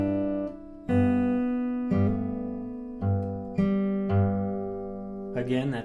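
A guitar plays very slowly, with open strings, a hammer-on and an alternating bass: a sequence of separate plucked notes roughly every second, each ringing out clearly and close up before a brighter strum at the end.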